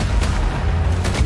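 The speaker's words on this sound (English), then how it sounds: "Returning gunfire in the streets of Cairo." Gunfire in the streets of Cairo in the video game Battlefield 6: two sharp shots cut through a deep, constant rumble of battle, loud and close.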